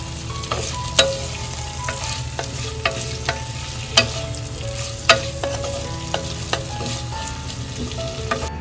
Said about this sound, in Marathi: व्यवस्थित सर्व गोष्टी आपल्याला परतावून घ्यायच्या आहेत